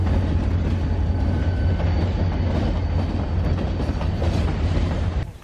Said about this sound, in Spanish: pasó otro tren carguero más de FEPAS